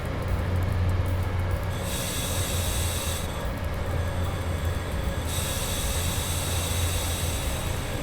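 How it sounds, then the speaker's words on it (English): Steady rumble of an EU07 electric locomotive in the SimRail train simulator, rolling continuously with a low hum, wheel noise and broadband hiss that swells and drops in the highs, no talking. "I've done a lot of multiplayer with this locomotive"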